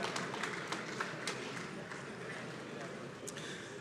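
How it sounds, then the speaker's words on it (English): Audience applause for the outgoing chairperson, a woman governor, on stage at the fifth LCB Governors' Forum: steady, dense clapping from a crowd with a few sharper claps standing out, fairly even throughout. "Please give her a big round of applause"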